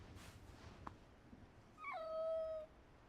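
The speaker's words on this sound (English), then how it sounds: "Puppy." A dog in the Final Fantasy XVI video game gives a single high, drawn-out whimper that slides down in pitch, heard alone over faint ambient rumble after a few soft sounds.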